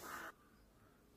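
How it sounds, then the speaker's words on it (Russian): One short, harsh crow caw rings out outdoors on a spring day, then quiet background air takes over. "У нас весна, птички поют"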